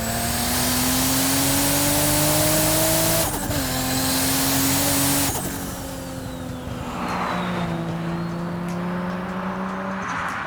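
A 1994 Toyota Supra with a 2JZ-GTE single-turbo engine and a BorgWarner S366 turbo idles and revs loudly up close, its steady drone climbing in pitch, dropping suddenly, then settling again, with no talking.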